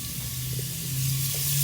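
Shallots and garlic sizzle in a pan as the base for a mushroom gravy, a steady close hiss that grows slightly louder over a low hum.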